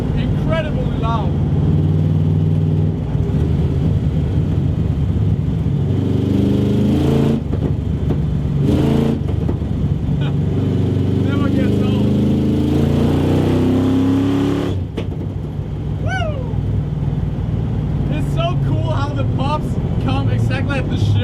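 A 300-horsepower Firebird's exhaust rumbles loud and close through back-road driving and hard pulls, its revs rising and dropping with each gear change while sharp pops crackle at the shifts; a voice talks and whoops over the engine.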